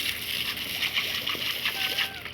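Shower water sprays and splatters steadily in a home bathroom while a dog laps and plays in the stream, a close, continuous hiss with wet splashing bursts.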